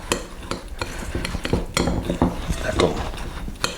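Cookie ingredients being mixed in a bowl with cutlery, a rapid run of close metallic scrapes and clinks against the bowl, steady and busy throughout.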